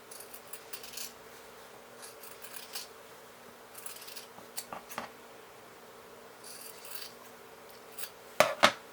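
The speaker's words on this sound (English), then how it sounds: "I'm going to clip the corners, so I'm just going to go ahead and cut straight across." Scissors snip across the corners of woven fabric in a few quiet, brief cuts, with faint rustling of cloth between them and two sharper, louder snips near the end.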